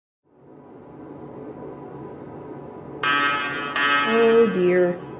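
Emergency alarms go off, a steady rising tone first, then a loud layered blaring alarm with shifting pitches joining in, close and sustained, with no voice.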